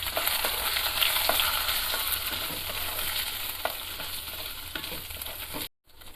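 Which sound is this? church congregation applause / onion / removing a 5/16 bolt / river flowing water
onion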